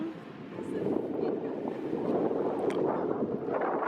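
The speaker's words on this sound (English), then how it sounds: "the wind was blowing so hard" Strong wind blowing at Upper Lake in Glendalough, Ireland, roaring steadily against the microphone as a dense, continuous rush throughout.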